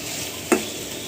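Pumpkin and prawns sizzle steadily in a pan while slit green chillies are added, with a single sharp stirring clink cutting through the constant frying hiss.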